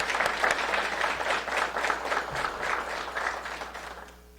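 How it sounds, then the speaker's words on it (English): An audience at a launch party breaks into a burst of steady applause, many hands clapping together before it tapers off at the end. "a round of applause to them"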